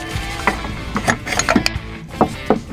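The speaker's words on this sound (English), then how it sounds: "So we're going to take our wrench and our socket, put them together, make sure that we are loosening it." A ratchet wrench and socket turn to loosen the oil filter on a Ford F150, giving a short run of clicking ratchet strokes and metallic knocks, close and moderately loud, with no talking.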